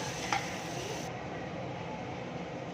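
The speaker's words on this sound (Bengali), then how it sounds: "ততক্ষণ আমি পেঁয়াজটাকে ভালো করে ভেজে নেব" Onions fry and get stirred in a pan, giving a soft, steady sizzle with faint scraping movements. One brief sharper scrape stands out early, and the sound stays fairly quiet throughout.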